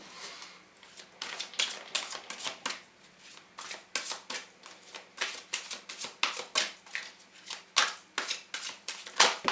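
Oracle cards riffled and shuffled by hand in a rapid run of crisp, papery flutters and taps, close and fairly quiet, with no voice over them.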